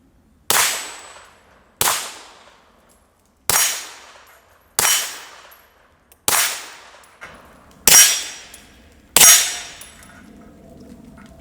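A Taurus G3 Tactical pistol fires seven sharp shots with uneven pauses between them, loud and close, each crack ringing out briefly outdoors, with a light clank of handling near the end.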